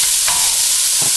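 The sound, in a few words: onion, green peppers and chili frying in oiled pan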